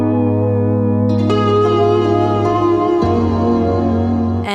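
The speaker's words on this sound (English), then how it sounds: "The other side of the pedal is Sunlight, which can sound like this" Sustained chords ring through the Sunlight reverb of an Old Blood Noise Darklight pedal, with new strums at intervals blooming into a smooth, thick, steady-volume reverb wash and no voices.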